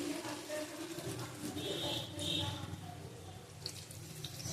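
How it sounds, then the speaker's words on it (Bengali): Hot water pours into a pan of chicken curry cooked with few spices, a steady splashing and hissing stream lasting several seconds at close range with no talk. "দেখো জল দিয়ে দেবো এবার"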